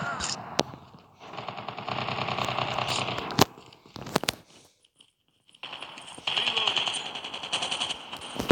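Submachine gun fire in the Call of Duty video game comes in rapid automatic bursts, loud and close, broken by short gaps, with game sounds between the volleys.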